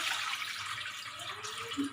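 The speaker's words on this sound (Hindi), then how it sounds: "इसे पानी डाल दें, इसका ढक्कन बंद करके इसको बॉईल कर लेती हैं" Water runs steadily from a tap into a pot for boiling dumplings, a continuous close splashing hiss filling the whole moment with no speech over it.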